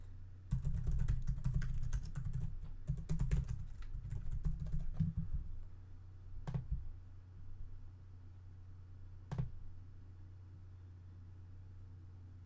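Login details are typed on a computer keyboard, a quick burst of close key clatter for several seconds followed by a couple of isolated sharp key taps, with no voice.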